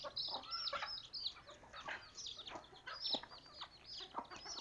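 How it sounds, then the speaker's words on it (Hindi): Hens and chicks in a backyard coop, including month-old chicks, cluck and chirp in a busy, overlapping flock chorus at close range with no talk. "ये देखें हमारी मुर्गियाँ"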